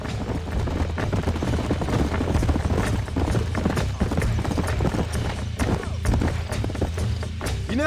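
Horse hooves clip-clop in the Western video game Red Dead Redemption, a quick steady run of hoof thuds on a dirt trail, close and even throughout, with a faint voice now and then.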